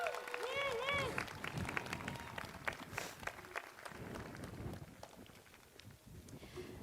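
Audience at the College of San Mateo commencement ceremony clapping: a broad, crackling wash of applause with scattered louder claps, heard from a distance in a large outdoor crowd, with voices and cheering mixed in.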